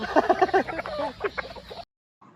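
Gamefowl chickens clucking at feeding time on a game farm, a quick cluster of close, busy clucks over about two seconds before a sudden cutoff and a faint tail.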